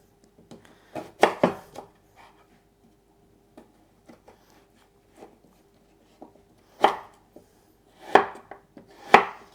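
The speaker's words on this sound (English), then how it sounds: "I'm just going to cut into some sticks to go with my hummus." A knife cuts vegetables into sticks on a board, with sparse, crisp chops, first in a quick cluster and then in spaced strokes, close and clear with no talk.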